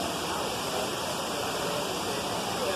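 A Costa Rican waterfall pours as a dense, steady rushing roar that fills the whole stretch evenly, close and loud with no voices over it.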